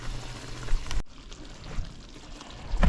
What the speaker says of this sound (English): then we have to add some water